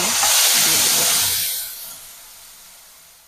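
A loud burst of hissing sizzle as ground green chili, onion and garlic paste hits hot oil in a home kitchen, strongest at first and then settling into a softer, fading fry.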